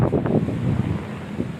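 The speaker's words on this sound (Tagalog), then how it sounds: "pero consistent yung hangin" Strong, steady wind during stormy weather buffets the microphone with a low, continuous roar lasting under two seconds, with no voices.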